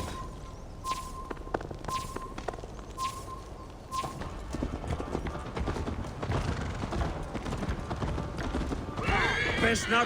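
Rhythmic clip-clop of horse hooves during a race in Assassin's Creed Valhalla, with a whinny near the start, character voices talking over the galloping, and a rising whoosh at the end.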